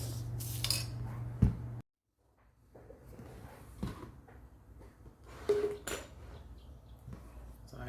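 A borrowed kitchen knife is handled close by, giving small metallic clinks and clattering knocks against a hard surface, then a brief silence before quieter handling noises resume.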